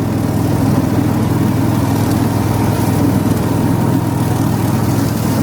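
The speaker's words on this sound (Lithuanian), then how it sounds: "Traktorius puikiai susitvarko ir su tokia žolė aukšta." A tractor engine runs steadily while mowing tall grass in a field, a loud continuous low drone with a busy mechanical rattle and no pauses or voices.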